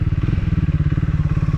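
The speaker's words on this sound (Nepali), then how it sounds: "यो बाइक धेरै सिसीको बाइकको चाहिँ यो हो कि 2 गियरमा पनि मजाले तान्छ क्या" A motorbike climbs a steep uphill off-road track near Kathmandu in second gear, its engine chugging in a loud, steady, rapid pulse close to the listener.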